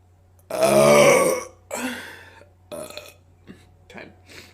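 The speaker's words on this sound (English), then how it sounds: "I feel like Coke always makes you burp like right away." A woman lets out a long, loud, deep burp after drinking Coke, followed by several shorter, fading burps with pauses between them, close and alone.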